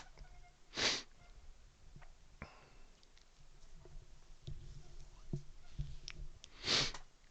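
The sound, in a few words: sneezing and sniffing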